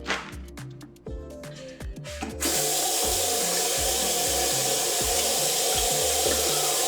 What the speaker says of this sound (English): Always wash your hands in between touching raw meat so you don't cross-contaminate in the kitchen